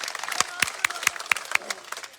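Crowd at a BJP candidate's political rally in India claps in quick, rhythmic unison, a series of sharp, evenly spaced claps over a faint crowd murmur.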